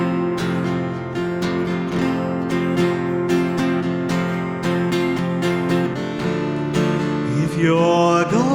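Folk performance of a song with strummed acoustic instruments and a steady rhythmic pulse, full and continuous, rising in intensity toward the close.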